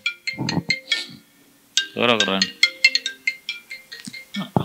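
A mobile phone ringtone plays an incoming call during a talk at a tuition teachers' meeting: a repeating, bright melodic tone pattern, fairly close, with a man's speech before and between the rings.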